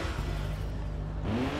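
A car engine revs in Watch Dogs, a steady mid-pitched drone that climbs in pitch near the end, loud and close with no voices over it.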